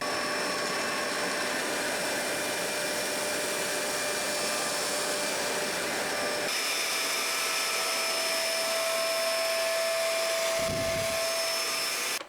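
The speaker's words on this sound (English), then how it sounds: "you can still have the full power of this suction motor and be able to pick that stuff up off" A Kenmore upright vacuum cleaner's suction motor runs in a steady, high whine, with the pitch shifting partway through and a brief drop near the end.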